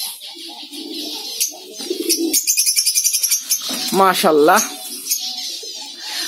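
A colony of yellow Fischer's lovebirds calls close by, with busy chirps, rapid trills and rising squeaks. A person briefly speaks over the birds.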